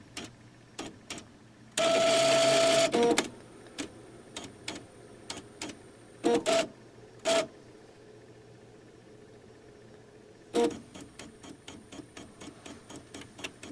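An Epson Stylus Color 800 inkjet printer at work: scattered mechanical ticks and clicks, a loud sustained buzzing whir of the carriage motor for about a second, short tonal whines, then a fast train of ticking, all fairly quiet and without speech.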